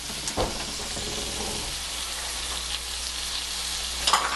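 Organ hamburger meat frying in a pan gives a steady close sizzle that runs throughout, with a few brief stirring clatters early on and again near the end.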